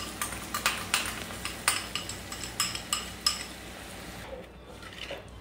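Stirring and metal clinks in a pan as spiced buttermilk goes into hot oil for doi begun, a series of sharp rhythmic spoon taps against the vessel, close and fairly loud, then fading into quieter sizzling.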